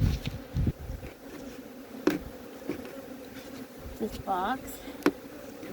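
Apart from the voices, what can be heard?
honey bees buzzing at a Flow Hive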